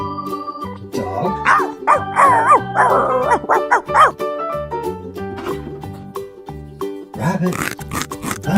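A toy dog lets out a quick run of electronic barks and yips over a simple looping tune, then a final bark near the end, all loud and close.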